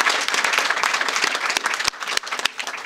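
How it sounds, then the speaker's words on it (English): Dense applause from a crowd at a ceremonial bill signing, honoring caregivers; steady, close clapping that runs for a few seconds with two brief dips. "You need a hand clap."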